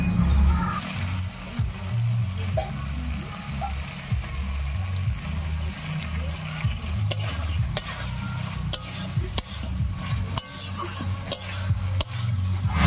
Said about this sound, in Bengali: জিরা আর ধনিয়া বাটা দিয়েও একটু কষিয়ে নিলাম।